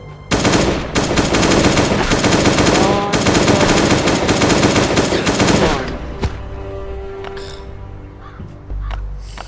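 An AK-47 in a shooter video game fires long, continuous automatic bursts for about six seconds, loud and up close, followed by quieter game ambience and a few scattered clicks and impacts.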